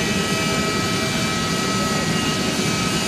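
Emirates Boeing 777 jet engines, GE90-115B turbofans, roar steadily at London Stansted Airport, producing a loud, unbroken broadband rumble with no pauses.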